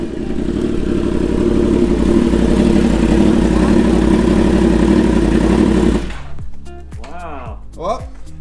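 A modified Yamaha R1 motorcycle pulls up, its engine roaring loud and steady for about six seconds before cutting off, followed by faint clatter and brief voices.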